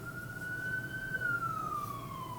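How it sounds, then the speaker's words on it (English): An emergency vehicle siren drives past in the countryside with one long wailing tone that rises, holds, then falls away. It is moderately loud at mid distance over a low traffic rumble, and no one speaks. "Sorry, I got a siren going by."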